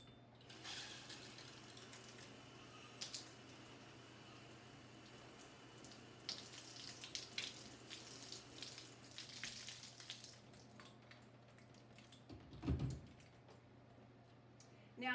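A removable shower head sprays water to rinse cleaner off shower tiles. The hiss is steady and faint and runs throughout, with a few clunks and a louder thump near the end.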